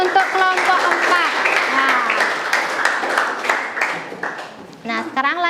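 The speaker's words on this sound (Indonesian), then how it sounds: "silakan tepuk tangan untuk kelompok 4" Students in a junior high school classroom in Bali applaud a presenting group, a short burst of clapping that quickly fades as voices take over near the end.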